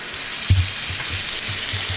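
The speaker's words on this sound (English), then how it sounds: "we're just gonna melt that down on this cast iron skillet here" Kerrygold unsalted butter melting in a cast iron skillet, a soft, steady sizzle with a brief knock near the start and faint crackles, close and without talk.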